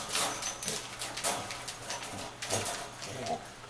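A dog whimpers and whines in short, repeated bursts, fairly close, with some shuffling and movement around it.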